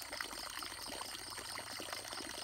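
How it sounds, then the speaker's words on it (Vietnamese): Water flowing from a pipe into a fish area, a steady trickling pour that is soft and continuous, with no talking. "Nước đang chảy về hơi ít"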